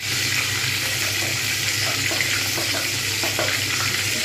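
Katla fish head pieces frying in oil in a pan, a steady loud sizzle with faint scattered pops and crackles throughout, no talking.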